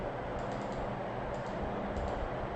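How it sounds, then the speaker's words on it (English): Code being typed on a computer keyboard: a steady, fairly faint patter of key clicks over background hum, with no talk. "You want time to type the code."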